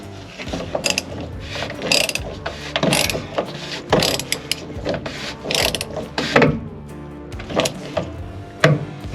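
Ratcheting and clicking of a hand tool snugging a part back on during service of a 2022 Chevy 2500HD turbo diesel, steady close mechanical clatter with repeated sharp clicks over nine seconds.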